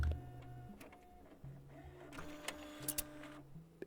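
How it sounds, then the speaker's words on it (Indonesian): An animated printer in a hospital video game whirs and clicks through a print job, with mechanical tones stepping in pitch and a few sharp ticks near the end, no talk over it. "Kita print sekalian."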